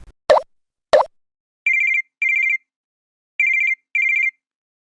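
A phone rings with a call from an unknown number: two soft pops, then four short electronic trilling bursts in two pairs separated by silence.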